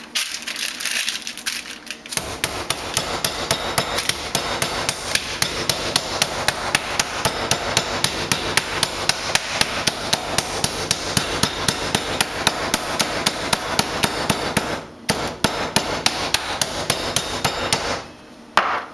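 A meat mallet pounds London broil steak in a steady run of rapid, loud, close thumping blows for about fifteen seconds, with a short pause, then a few final strikes.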